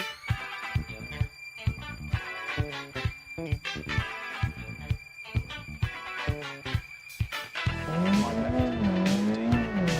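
A Group B rally car in BeamNG races hard through rapid gear changes and revving engine bursts, then breaks into a long, loud tire squeal as it slides, with no voices over it.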